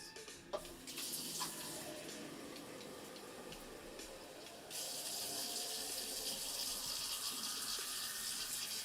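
Fresh tap water runs steadily into a vase of flowers indoors, a soft, continuous splashing that grows fuller and louder partway through, with no talking.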